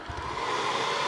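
A hair dryer blows steadily and close while drying paint on a Sculpey clay figure, a constant airy roar with no voices.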